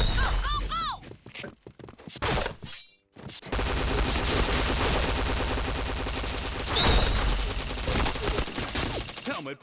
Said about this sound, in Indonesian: Loh kok nggak kena aku nembak ya?